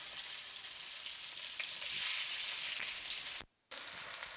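Chicken pieces frying in a little hot oil give a steady, broad sizzle with soft crackles, close and fairly loud, broken by a brief near-silent gap toward the end.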